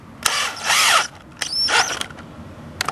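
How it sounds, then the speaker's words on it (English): A power drill driving a 3/8 drive adapter through a 1/4 inch chuck, with close whirring bursts of spinning and ratcheting, one long run and two shorter ones, in a quiet setting. "1/4 inch chuck in the drill to 3/8 drive. Crank her down"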